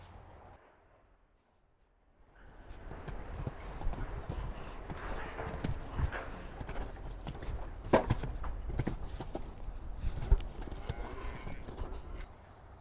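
A horse's hooves thud and clip-clop on an arena surface during show jumping training over a line of obstacles, a moderately close irregular stride with some background noise after a quiet start.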